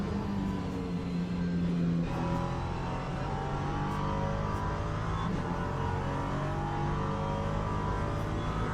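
LMP3 prototype race car engine in a racing video game, a steady loud rumbling drone with shifting pitch throughout, running continuously without talk.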